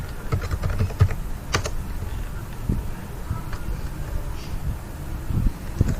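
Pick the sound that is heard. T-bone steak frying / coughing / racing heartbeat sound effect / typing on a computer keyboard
typing on a computer keyboard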